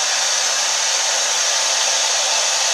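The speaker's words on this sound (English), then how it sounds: "When I turn on the fan" Hair dryer fan blowing through a faceplate with a center port, a loud, steady, broadband whoosh that holds constant throughout, close to the microphone with no voices.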